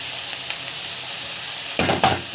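Fresh coriander and mint sautéing in a pan give off a constant broad hiss, then near the end two louder bursts of sizzle as the leaves are stirred, close and without speech.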